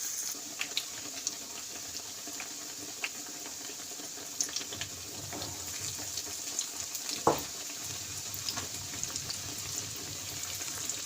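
Soft bread pieces frying in a pan, a faint continuous sizzle and crackle with scattered small pops and an occasional clink or scrape, no voices.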